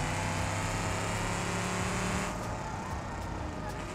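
Car engine in BeamNG.drive droning steadily under load while climbing a mountain road, a weak vehicle straining continuously, loud and close, with the tone shifting and roughening slightly partway through.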